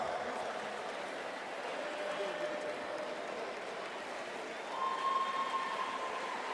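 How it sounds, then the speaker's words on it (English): Crowd applause in a hall for a women's volleyball best server award at a Ghana armed forces sports championship, a steady dense wash of clapping held throughout with faint voices underneath. "A round of applause for her."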